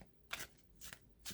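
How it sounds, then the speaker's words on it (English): Large tarot cards are shuffled in three quick riffling bursts, soft and close, each a brief papery flutter with quiet pauses between. "Let's give them a good shuffle."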